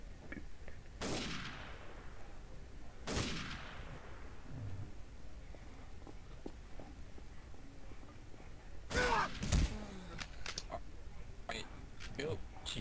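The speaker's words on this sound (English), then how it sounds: "did you just shoot him?" Gunshots crack out in a tense team game, sharp broadband bursts near 1 s, 3 s and 9–10 s, the last a tight rapid cluster, with faint voices and background noise between the shots.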